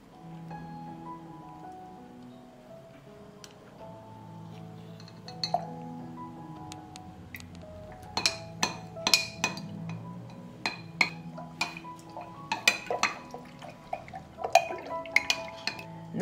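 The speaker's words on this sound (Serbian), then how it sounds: "2 supene kašike razmutit ću u 700 ml vode." Slaked lime powder stirred into about 700 ml of water with a spoon, giving a run of close, sharp clinks and scrapes against the container, sparse at first and then quicker and denser, with no talking.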